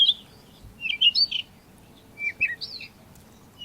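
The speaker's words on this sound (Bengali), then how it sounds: "রয়েছে পাহাড়ি ধরনের পাখি" Hill birds in Sreemangal: a few thin, high chirps and short twittering phrases in two clusters over quiet background, clear and fairly close, with no one speaking.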